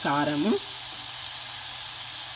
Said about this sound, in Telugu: ఇది చక్కగా ఫ్రై అయిపోయిందండి